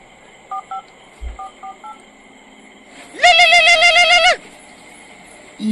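Telephone keypad tones beep in short pairs at the start, followed by a loud, sustained warbling phone ring lasting about a second, then near silence.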